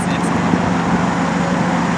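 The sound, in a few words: Pontiac Vibe idling with loud exhaust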